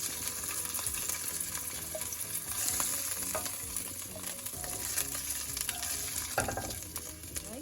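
Yakisoba noodles stir-frying in a hot pan at home, a constant close sizzle with scraping and tossing clatter from the utensil, and one louder clank near the end.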